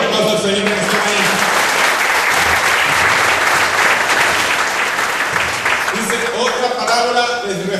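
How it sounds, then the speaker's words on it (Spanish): Church congregation applauding the Lord during a morning service, dense loud clapping sustained throughout, with a speaking voice at the start and again near the end. "Pero un aplauso al Señor en esta mañana."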